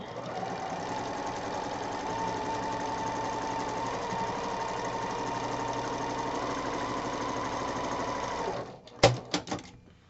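Sewing machine running continuously while stitching quilt pieces for a star block, a steady close mechanical whir for about nine seconds, followed by a few sharp clicks and knocks as it stops.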